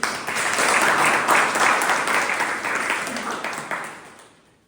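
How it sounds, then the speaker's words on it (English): Sustained applause from a club meeting audience, dense steady clapping for about four seconds before fading out at the end. "A big round of applause"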